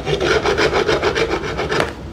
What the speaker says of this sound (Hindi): एक रेती की सहायता से हम इसको रफ करेंगे।